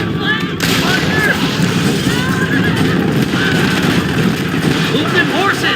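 Horses neigh repeatedly in the Western video game Red Dead Redemption, loud whinnies rising and falling over a busy mix of gunfire-like bangs, hoof noise and shouting voices.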